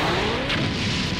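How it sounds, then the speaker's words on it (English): A big explosion in the Dragon Ball Sparking! Zero fighting game: a dense, loud, roaring blast of noise that fills the whole moment without letting up, with a deep rumble underneath. "Yamcha dies in the explosion induced by the self-destructive weapon the Saiyans had made"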